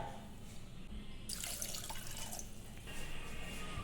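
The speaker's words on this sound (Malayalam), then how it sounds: "കുറച്ചും കൂടി വെള്ളം ഒഴിക്കുന്നുണ്ട്" Water pours steadily from a tap into a pressure cooker for chicken macaroni, a bright rushing splash that starts abruptly and runs for a couple of seconds, close by.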